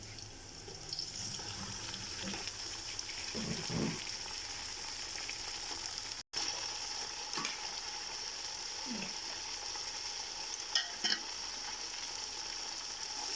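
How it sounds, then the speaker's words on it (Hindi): One kilo of beef keema frying with browned onions in a large commercial batch, a steady sizzle broken by stirring knocks and scrapes, with a brief dropout midway. "अब इसी प्याज के साथ कीमा फ्राई करने लगी जी"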